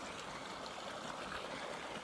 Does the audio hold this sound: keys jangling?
no